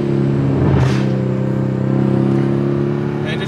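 A stage 1 tuned Mercedes CLS 550 revs up as it accelerates, a deep rising engine growl heard from inside the car with road rumble beneath.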